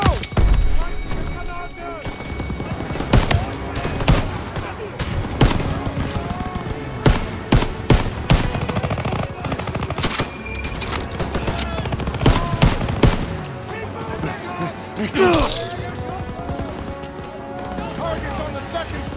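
German machine guns firing from a barn in the Call of Duty: WWII video game rattle in rapid bursts with scattered booms and impacts, loud and chaotic, while soldiers shout over the battle.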